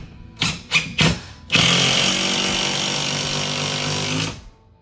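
A power tool drives a lag bolt into a wall to mount a TV, a few short bursts of the motor followed by a long continuous whirring drive that stops abruptly, loud and close.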